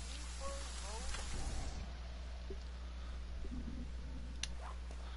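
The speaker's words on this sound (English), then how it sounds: "It's still raining, guys." Rain falls steadily outside at a campsite, a soft, even hiss with scattered drips, while voices and a few brief clicks sound faintly over it.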